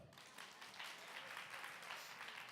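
Faint, steady clapping from an audience at a chronic disease health event, sustained for the whole stretch at a distance.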